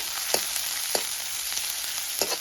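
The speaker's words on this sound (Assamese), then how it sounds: "ভালকৈ ভাজি লৈছোঁ" Onion, green chilli and panch phoron spices frying in oil for an Assamese cauliflower-and-egg dish, a steady hiss of sizzling with a few sharp crackles and spatula scrapes, close and alone.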